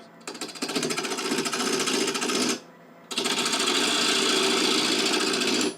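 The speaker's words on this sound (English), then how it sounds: "From here, it's essentially bowl turning." A wood lathe turns a bowl blank for a garden bird feeder, likely being cut with a bowl gouge. Loud, steady broadband whirring and cutting runs for about two and a half seconds, stops briefly, then resumes equally loud until the end.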